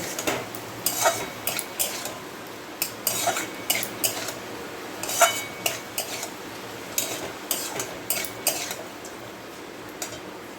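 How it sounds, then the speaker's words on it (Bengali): A utensil stirs food in a pan after pizza pasta sauce is added, making repeated clinks and scrapes against the pan in an uneven rhythm, close and alone with no talk. "একটুখানি পিজা পাস্তা সস দিয়ে একটু নাড়াচাড়া করে"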